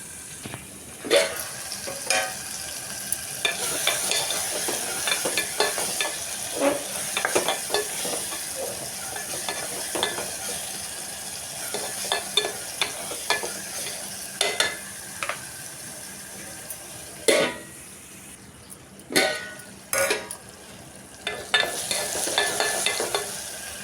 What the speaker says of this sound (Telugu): ఉల్లిపాయలు, పచ్చిమిరపకాయలు, టమాటాలు మగ్గియండి కాసేపు అయితే.